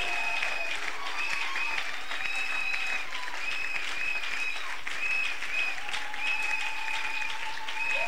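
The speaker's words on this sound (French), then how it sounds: "Des acclamations d'urgence." A church congregation at an evening worship service breaks into loud, sustained applause and acclamation, a continuous wash of clapping with voices crying out and tones ringing above it.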